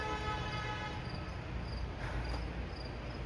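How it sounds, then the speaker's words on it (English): A GO train passes on the Lakeshore East line in Scarborough, moving a little slower than usual, giving a steady, loud rumble with a faint high horn-like tone throughout. "here comes another GO train on the Lakeshore East line"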